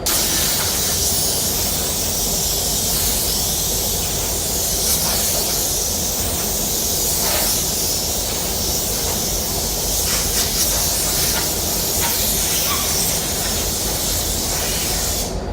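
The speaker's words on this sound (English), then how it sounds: "Make sure that you spray in any little cracks or crevices very well." Continuous hissing spray of water onto a car body panel being cleaned before paint, steady and loud for the whole stretch without pause, with no voices.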